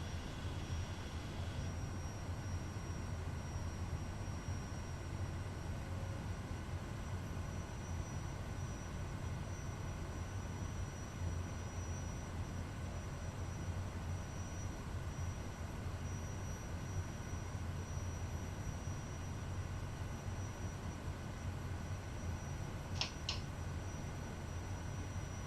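Kodiak 100 single-engine turboprop taxiing, a steady low engine drone and propeller hum heard from inside the cabin, constant and unbroken throughout with a brief faint click near the end.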